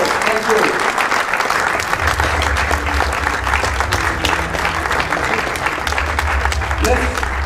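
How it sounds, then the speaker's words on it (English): Audience applause at a sports awards ceremony: sustained, dense clapping from a crowd throughout, with a voice speaking over the clapping. "let's give him a great round of applause."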